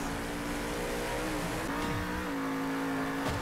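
Monster truck engine in Monster Jam Steel Titans 2 revving hard while spinning donuts, a loud continuous roar with rising and falling pitch and tire scrub, no voices.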